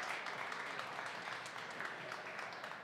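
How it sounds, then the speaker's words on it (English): Audience applause for sponsors at the 2022 Fourteeners Awards event, a steady wash of many hands clapping that holds at moderate, fairly distant loudness for the whole stretch. "Let's give a round of applause for all of our sponsors."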